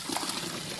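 Water runs from a household tap in a steady, hissing stream, close and even for a brief moment.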